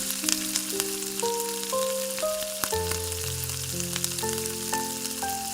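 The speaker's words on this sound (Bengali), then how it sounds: "মাথাগুলোকে হালকা করে ভেজে নেব" Hilsa fish heads fry in a pan with turmeric powder and salt, giving a steady close sizzle under strong tonal music that runs throughout.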